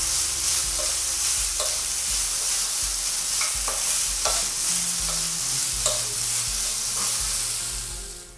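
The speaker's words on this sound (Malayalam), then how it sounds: "നന്നായി ഒന്ന് സോട്ട് ചെയ്ത് കൊടുക്കാം." Vermicelli sautéing in a pan for semiya payasam makes a steady close sizzle, with a spoon scraping and stirring in regular strokes throughout and no talk.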